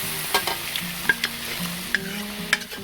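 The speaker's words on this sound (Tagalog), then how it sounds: "Ngayon po ay isusunod na natin sa paglagay dito ang ating litid ng baka." Beef tendon going into a hot pot for sinigang, with a steady sizzle, a few sharp spattering pops and stirring noises. The sound is close and moderately loud, with no talking.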